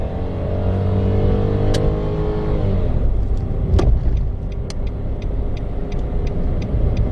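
Remapped Nissan March pulling hard in first gear, engine note climbing steadily then shifting around three seconds in, loud and close from inside the cabin, with a few faint ticks and no talk.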